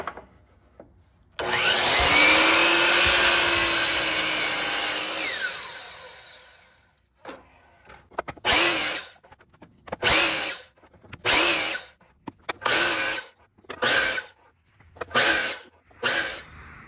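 A power saw set up with a stop cuts the corners off wooden cornhole board legs, first in one long loud whining cut, then in a steady run of short separate cuts close by.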